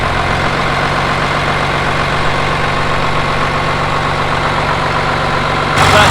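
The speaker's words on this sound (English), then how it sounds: "That crunchy idle you don't get on the new one." An old 3350 tractor engine idles with a rough, crunchy, steady diesel rumble, loud and close, running alone throughout with a slight rise in level near the end.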